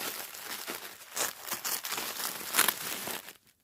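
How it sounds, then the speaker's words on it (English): Taped, squishy gift package being unwrapped by hand, with steady crinkling and tearing of paper and tape over several seconds, close and moderately loud, ending in quiet. "if I can unwrap this without looking at it so you can see it first"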